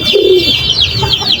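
Pigeons, including a white one, coo inside their coop, a low burbling call under continuous soft chirps and rustling, close and fairly loud.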